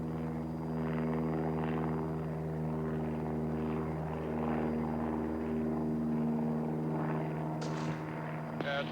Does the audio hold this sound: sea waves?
no